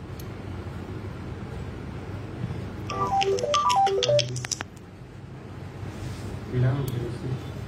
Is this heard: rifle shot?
no